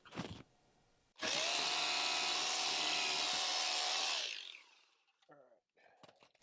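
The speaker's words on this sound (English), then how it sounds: "I'm gonna drill, put my foot there and drill for concrete anchors." A power drill bores into a concrete floor for anchors, a loud, steady grinding whine lasting about three seconds, preceded by a short burst and followed by fainter knocks and handling sounds.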